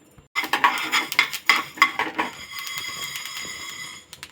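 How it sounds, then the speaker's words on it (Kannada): Fenugreek seeds are dry-roasted in a pan for homemade pickle. A metal spoon clinks and scrapes against the pan in a quick irregular series, then settles into a softer continuous rattle of seeds being stirred. "ಈಗ 3 ಸ್ಪೂನ್ ಮೆಂತೆ, ಅದನ್ನ ಚೆನ್ನಾಗಿ ಹುರ್ಕೊಳ್ಳೋಣ."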